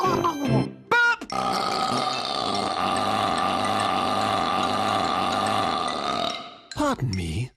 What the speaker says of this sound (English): Burp!